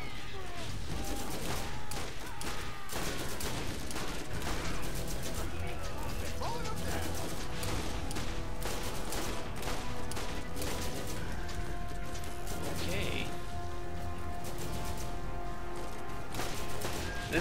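Rapid gunfire from a corrosive gun in the Borderlands video game, dense bursts of shots rattling almost continuously alongside other weapon fire and clatter, loud and busy throughout.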